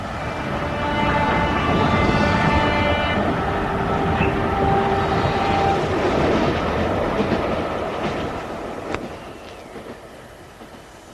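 Train rolling on rails in a radio drama, a steady rumbling clatter with rhythmic wheel clicks and a faint high tone, fading toward the end.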